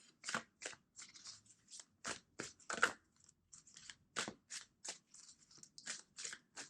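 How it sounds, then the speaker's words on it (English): Cards being shuffled in a series of quick riffling bursts, crisp and close, with brief pauses between them. "Two more shuffles."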